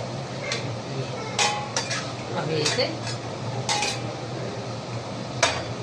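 A metal utensil clinks and scrapes against a pot in a home kitchen as chopped boiled eggs go into boiling water for a Sunday egg breakfast, with sharp, irregular taps over a running background and a brief spoken phrase.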